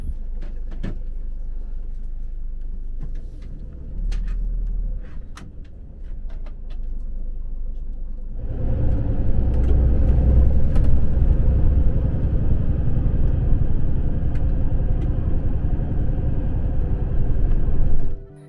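Samhwa Express premium highway bus heading from Seoul to Busan, heard from inside: a low engine rumble that grows fuller and louder partway through as the bus gets moving, with occasional small knocks and rattles.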